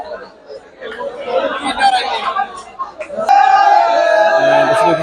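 Lively crowd chatter and mixed voices at cattle being unloaded from a truck in Chittagong fill the air, swelling louder toward the end with a sustained higher-pitched shout or call over the babble.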